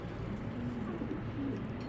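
Racing pigeon of Janssen bloodline cooing close by, a low steady murmuring coo running continuously under a constant background hum.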